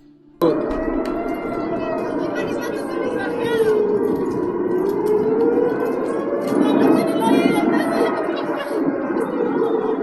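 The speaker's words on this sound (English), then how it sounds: "That you could hear in the background was the air raid siren." A wailing air raid siren in Israel during rocket fire from Gaza rises and falls steadily in the background, with a low rumble and some indistinct voices underneath.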